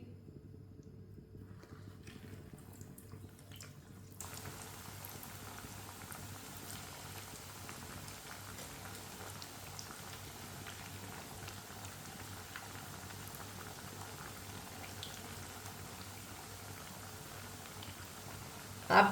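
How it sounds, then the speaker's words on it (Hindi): Aloo tikki fry in hot oil with a steady, close sizzle and bubbling that grows louder after a few seconds and then holds an even, continuous crackle. "आप दे सकते हैं बुलबुले आ रहे हैं। ऑयल हमारा अच्छी तरह गर्म हो चुका है।"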